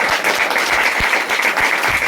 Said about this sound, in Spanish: ¡Que aplaude!